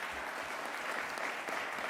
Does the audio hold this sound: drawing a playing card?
no